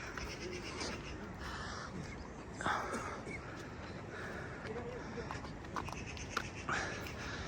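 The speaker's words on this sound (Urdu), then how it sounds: "صرف چڑیوں کی چہچہانے کی آواز اور دریا کا جو شور ہے" Scattered bird calls and a few caws sound faintly in a quiet mountain village, over a constant rushing roar from a nearby river.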